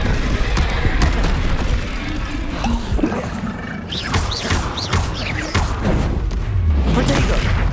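Expelliarmus and other spells cast in Hogwarts Legacy on PS5 produce bursts of magical whooshes, crashes and heavy thuds, layered over busy game noise with voices speaking throughout.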